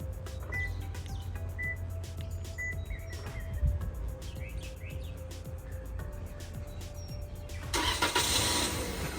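A 2017 Toyota Corolla engine cranks and catches via remote start outdoors, the starter whirring before the engine settles into a low idle, with birds chirping in the background and a louder rushing burst near the end.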